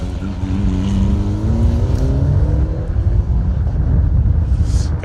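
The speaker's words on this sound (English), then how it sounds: "Dave Riley, Gary Dillon making their way through in the slightly older model of the the Mitsubishi" Older-model Mitsubishi rally car accelerating along a rally stage, its engine note climbing steadily through a gear and staying loud and close for several seconds, with no talk over it.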